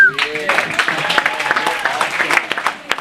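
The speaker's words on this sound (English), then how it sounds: "Big round of applause for all of you guys." Wedding guests at a reception applaud during a best man's speech, a dense burst of close clapping from the crowd with voices talking over it.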